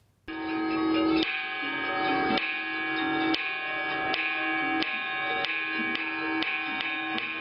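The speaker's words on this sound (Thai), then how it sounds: "เสียงระฆังที่มีความกังวานและก้องไปไกล" A metal Thai Buddhist temple bell is struck repeatedly at a steady pace in the traditional bell-ringing ceremony, each ringing strike layering over the long, resonant hum of the last.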